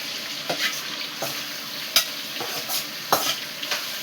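Chicken frying in a pan gives a steady, close sizzling hiss, broken by several brief stirring scrapes at irregular intervals.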